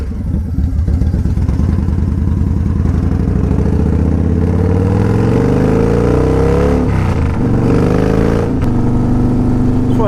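A Kingpin motorcycle engine runs loud and steady while riding through town, with rising and falling revs and gear-change shifts from a close, bike-mounted perspective.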